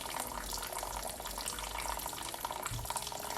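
Water from a faucet running steadily into a sink during handwashing, a continuous soft hiss and splash with no voices.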